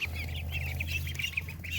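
Young chickens cluck and chirp continuously over a steady low hum, a busy flock close by with overlapping calls.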